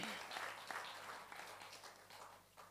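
An audience at a religious discourse gives sustained applause welcoming the mayor, a steady wash of many hands clapping at a moderate distance, continuous for a few seconds with a faint low hum underneath.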